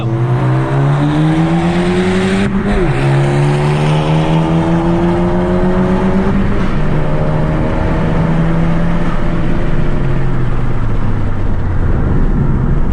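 Engine note of a tuned 2020 Honda Civic Si racing a Ford Focus ST, loud and continuous, rising through the gears with two clear shift dips, tone climbing steadily then easing near the end, heard close without talk.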